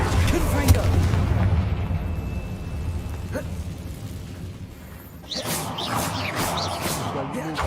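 A Confringo fire spell explodes in the Hogwarts Legacy video game, a loud burst of booming, whooshing blasts amid a dense battle din with crackling impacts.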